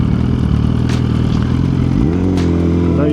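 A motorcycle engine idles loudly and then revs up, its pitch climbing steadily near the end, with a couple of sharp clanks along the way.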